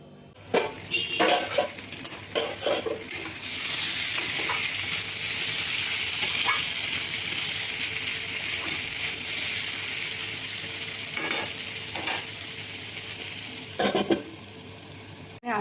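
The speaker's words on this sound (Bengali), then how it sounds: "আলু আর কুমড়ো ভাজা হচ্ছে রুটি খাওয়ার জন্য" Potato and pumpkin pieces fry in hot oil in a home kitchen, a steady close sizzle broken by stirring clinks of a spatula against the pan at the start and near the end.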